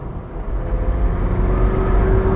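McLaren 765LT Spider engine under way on open roads, a steady loud low drone with rising revs, close and continuous throughout without talk.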